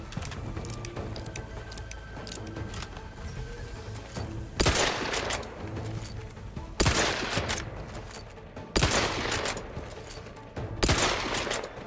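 Sniper rifle shots and gunfire in The Outer Worlds 2, four loud, sharp blasts spaced a couple of seconds apart over a low, steady game background.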